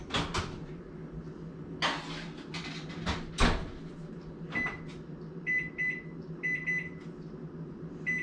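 Kitchen sounds as tarts go in to bake: a few sharp clunks and knocks of the oven door and trays up close, followed by a series of short electronic beeps.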